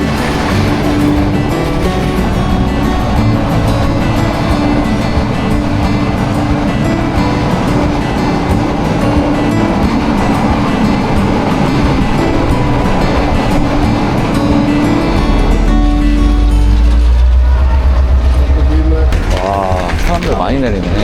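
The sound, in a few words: train rattling and swaying along tracks in Sri Lanka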